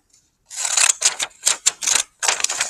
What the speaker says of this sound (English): Then I'm going to cut another strip.